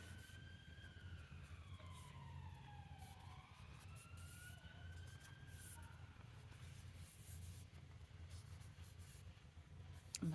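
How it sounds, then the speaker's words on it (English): An emergency vehicle siren wails past in the distance, its pitch sweeping down and back up, over a constant low traffic rumble, faint and alone, with a brief close knock at the very end. "Another siren went by."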